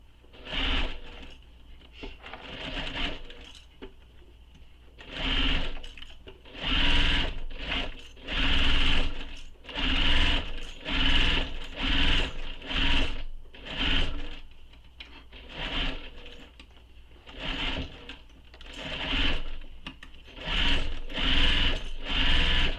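A sewing machine back-stitches a satchel bag in repeated loud bursts of rapid whirring, broken by brief pauses as the fabric is turned.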